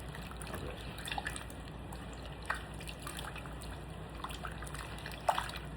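At a kitchen sink, a tap trickles faintly while meat is rinsed clean of lemon, lime and seeds, with a steady low stream and occasional soft splashes and drips, and no talking.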